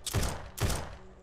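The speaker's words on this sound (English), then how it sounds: "somebody's shooting at me with a silencer" Two suppressed gunshots in the survival game SurrounDead, each a short muffled broadband burst about half a second apart, fairly close and with no talk over them.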